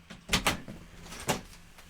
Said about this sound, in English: See, now I'm just going to open the door.